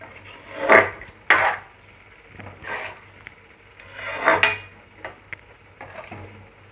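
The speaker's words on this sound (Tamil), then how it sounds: "நல்லா கிளறி விட்டுப்போம்." A spoon stirs water in a cooking pot for soya biryani, scraping against the metal in a few uneven strokes, with close knocks and rubs, no talk.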